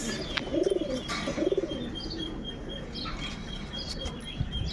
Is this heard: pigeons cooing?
yes